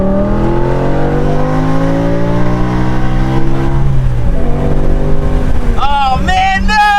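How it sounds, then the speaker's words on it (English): BMW E60 M5 V10 at full throttle with a misfire, engine note rising steadily in pitch under acceleration, then a shift and a rough, faltering rise, loud and close from inside the car. "I'm gonna floor it here."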